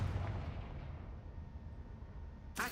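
In the video game Hogwarts Legacy, a Confringo blasting spell sets off a deep, rumbling explosion that decays slowly, followed by a sharp burst at the end.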